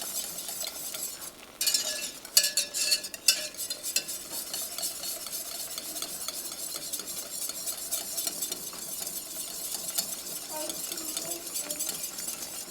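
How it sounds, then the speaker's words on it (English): A utensil beats and stirs flour lumps out of a thickening cream of celery soup in a pot, with soft scraping and a few sharper clinks against the pan, close and fairly quiet. "I'm going to get all the flour chunks beaten out and get it nice and smooth"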